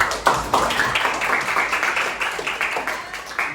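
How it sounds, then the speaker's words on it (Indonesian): A class claps their hands together in a lesson's closing moment, a sustained patter of many hands with a few sharper claps standing out, fairly loud and close. "tepuk tangan untuk kalian semua"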